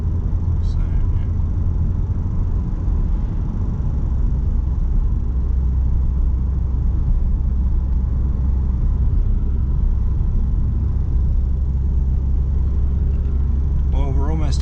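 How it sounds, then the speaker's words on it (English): Mitsubishi Magna car engine droning steadily while driving, a continuous low rumble with road noise heard from inside the cabin, with no break throughout. "Hope you like this little drive in the Magna."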